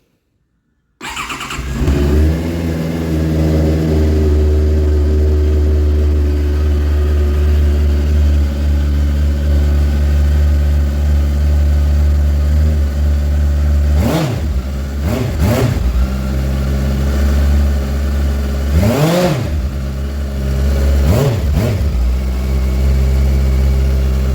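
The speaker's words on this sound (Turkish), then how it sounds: "Motorumuz boştayken egzozu bir dinleyin." After a second of silence, a Benda LFC 700 motorcycle exhaust idles with a steady, throbbing rumble, then revs sharply three times before settling back to idle.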